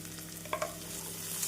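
Onions sauté in a pan while cooking cauliflower honey chilli, a brief steady sizzling hiss with a couple of soft stirring taps near the middle.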